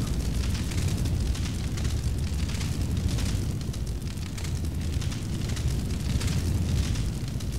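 A house burning in Breath of Fire 3, a dense continuous roar of flames with steady rumbling crackle, loud and unbroken throughout.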